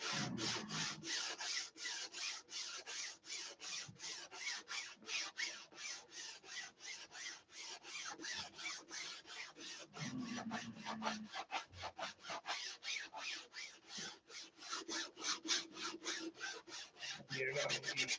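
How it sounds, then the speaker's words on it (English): Steady, rapid rasping strokes of hand sanding on wood, continuous and close, with a regular back-and-forth rhythm throughout. "Let the sanding begin."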